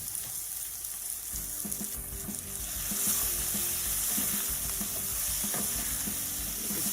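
Chopped courgettes sizzle and crackle as they pan fry in margarine, a steady close frying hiss with scattered stirring scrapes and clicks, no voices.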